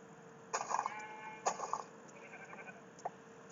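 Minecraft sheep give a few short bleats, clear but moderately quiet, spaced out over a low steady background hum.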